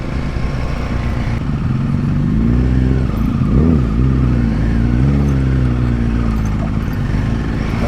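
Light motorcycles ride a slippery mountain road of mud and loose stones between Besisahar and Chame in Nepal. Their engines make a steady, close drone with uneven revving as the bikes work over the rough surface.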